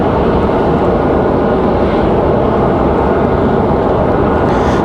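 A Republic Airways Envoy airliner at Raleigh-Durham airport: a loud, dense, continuous engine rumble and hiss that stays steady and close for the whole stretch, with no talking.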